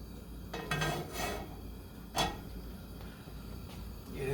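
Oil heating in a pan for chorizo and rice while the pan is swirled on the stove, giving a few soft metallic scrapes and clinks over low kitchen background noise.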